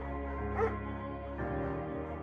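A dog in a video game gives a single soft bark or yip near the start, followed by a low steady hum with faint whimpering tones.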